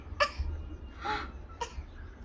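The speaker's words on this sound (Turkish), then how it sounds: "Neden öksürüyorsun?" Three separate coughs, close and fairly sharp, spaced about a second apart, the middle one longer and more throaty, with no talking.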